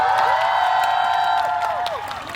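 A concert crowd cheering and applauding at a live pop show, a loud wash of claps and shouts that fades slightly toward the end, with a voice rising over it.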